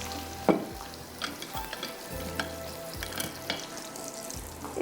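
Butter and a little oil heating in a frying pan on lowered heat, giving a steady soft sizzle with occasional stirring scrapes and clinks, close by, no voices.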